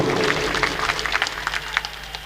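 A crowd at an outdoor political rally claps in a dense patter of many overlapping hand claps that fades slightly toward the end.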